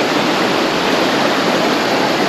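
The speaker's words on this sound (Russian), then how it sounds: "Горные ручьи." The Psezuapse, a rushing mountain river near Lazarevskoye in Sochi, gives a loud, close, constant roar of turbulent water that fills the whole clip with steady broadband noise and no voices.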